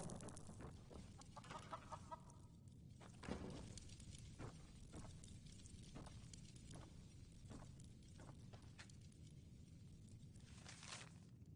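Chickens cluck softly in the fantasy video game Enderal, scattered short clucks over a steady ambient game background with faint footsteps.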